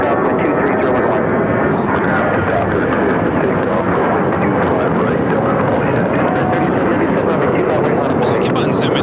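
A Japan Airlines Boeing 787-9 Dreamliner takes off from runway 25 right at LAX, a loud, steady roar of engines that fills the whole stretch, with a voice talking over it.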